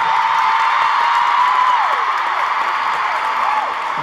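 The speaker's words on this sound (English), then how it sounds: "please give him a huge round of applause" A concert audience cheers and applauds for a singer in a steady, dense wash of clapping and whoops, with individual shrieks rising over the crowd.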